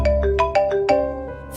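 A phone ringtone plays a short, bright electronic melody of several quick rising and falling notes, clear and close, with no voices over it.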